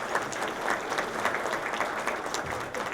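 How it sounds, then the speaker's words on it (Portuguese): Audience applause at a national transit seminar welcoming a CEO to the stage, steady dense clapping from a crowd, fairly close and sustained for the whole few seconds without voices. "Vamos receber nesta manhã com uma salva de palmas"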